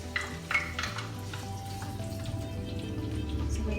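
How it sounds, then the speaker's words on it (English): Onion sautéing in warm oil for pancit canton and sotanghon sizzles steadily and close by, a continuous crackling hiss with a few louder pops at the start over a low hum. "Okay, so what we're gonna do is saute the onion first."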